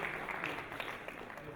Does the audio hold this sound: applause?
yes